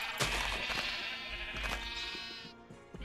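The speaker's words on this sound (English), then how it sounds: "I need to see a sheep eat grass to understand what happens." A Minecraft sheep bleats several times in quick succession, clear and close, with a short chewing crunch of grass mixed between the calls.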